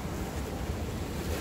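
Ocean waves wash onto the shore at a Songjeong fishing spot, a continuous low, rushing roar mixed with wind noise and no clear individual breaks.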